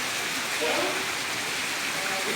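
Steady rain falls on a rural Punjabi village farm, a continuous broadband hiss with soft pattering, fairly close and even throughout, with faint voices in the background.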